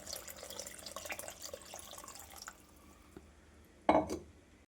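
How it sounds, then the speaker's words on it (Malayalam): Water is splashed from a vessel into a mixer grinder jar while making a Kerala prawn curry, a short close splash and trickle after a quieter stretch of faint kitchen noise. "ഞാനിവിടെ മിക്സിയുടെ ജാറ് കഴിയ വെള്ളം കൂടെ ഒഴിച്ചു കൊടുക്കുന്നുണ്ട്."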